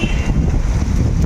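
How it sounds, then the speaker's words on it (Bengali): Afternoon wind blows hard across the microphone beside a pond in a small Maharashtra village, a loud, steady rumbling gust throughout with no voices. "দেখো একদম কত সুন্দর হাওয়া বইছে।"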